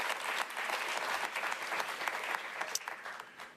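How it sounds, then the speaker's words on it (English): Sustained audience applause at an awards ceremony, a dense and even roar of many hands clapping at moderate distance that carries steadily before tapering off at the end. "Please give a round of applause to Pro Dio Audio Learning"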